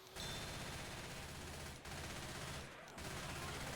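Sustained machine gun fire in a Left 4 Dead–style versus match on the Swamp Fever map, a dense continuous rattle of rapid shots filling the clip with only brief pauses, loud and close.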